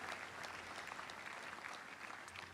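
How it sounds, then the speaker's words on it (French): A church congregation applauding together: a steady wash of clapping that holds at an even level for the whole stretch, fairly faint and somewhat distant. "applaudissons pour Jésus-Christ."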